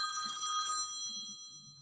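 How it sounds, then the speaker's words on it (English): A telephone rings with a steady, bright electronic bell tone, fairly loud and alone, fading slightly toward the end. "Sorry about the phone ringing, Lisa."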